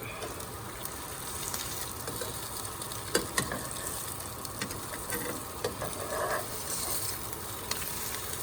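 French toast sizzles steadily in a hot pan, a dense continuous crackle with occasional soft clinks and scrapes, close by and without speech.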